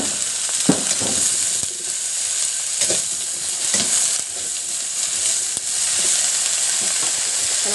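Mixed vegetables with onion and ginger sizzle loudly in a hot pan, a steady frying hiss broken by occasional scrapes and stirring clatter, with no talking.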